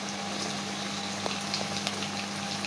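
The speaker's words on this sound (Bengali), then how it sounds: "পরবর্তী পিঠাও দিয়ে দিচ্ছি। এখন তেল ঠিক মতো গরম হয়েছে।" Meat pitha fries in hot oil with a steady, dense sizzle and bubbling, broken by occasional small pops, close and continuous without talk.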